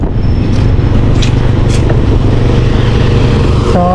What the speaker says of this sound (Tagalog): So malapit ako sa may tabing highway